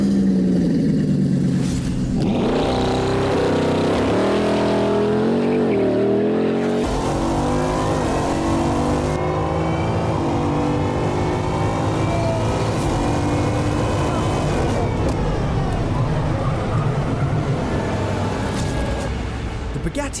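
A Bugatti Bolide, the track-focused hypercar derived from the Chiron Super Sport, revs and accelerates loudly, its engine note sweeping up and down repeatedly with a passing roar, playing through speakers under overlaid voices and music.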